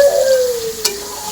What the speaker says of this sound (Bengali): এইবার আমি ধুয়ে রাখা গোটা গোটা নোংরা মাছগুলো দিয়ে দেবো।